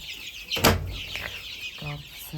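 Hens on a small homestead poultry yard give a few short, close clucks in quick succession, sharp and clear over a quiet background.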